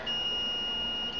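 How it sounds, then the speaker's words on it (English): A BK-300 resistance tester sounds a steady, continuous high electronic alarm tone while testing a battery above its 40-ohm limit, holding unbroken throughout at moderate level. "And the alarm's going off because it's above the 40 ohms limit"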